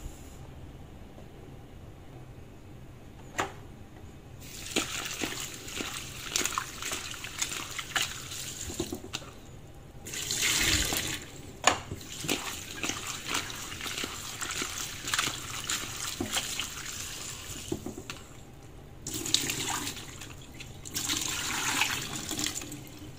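Pickled vegetables for a Vietnamese-style sandwich are rinsed under a running tap, with steady splashing water that swells and drops as the flow is adjusted, with occasional small knocks and handling sounds.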